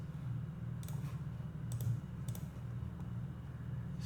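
Fingers tap a computer keyboard in a few soft, scattered keystrokes over a low, steady hum in a quiet room.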